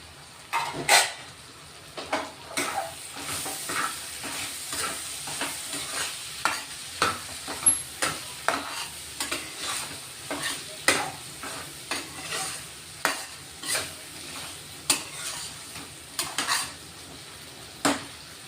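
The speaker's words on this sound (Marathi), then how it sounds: "हे हरभरे भाजून ठेवलेले हे आपण आता मसाल्यात ओतून घेणार आहेत" Close-up sizzling as roasted chickpeas fry in masala in a pan, with repeated scraping and stirring clicks of a spoon, a steady rhythm of strokes over continuous frying noise.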